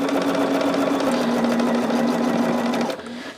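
A sewing machine runs steadily, stitching white and colored fabric pieces together for a charm-style quilt. Its hum stays even and close for about three seconds, then the motor stops and leaves a quiet tail.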